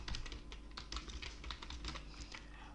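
Rapid, steady keystrokes on a computer keyboard while a bibliography source entry is typed into a document, close and clear with no voices.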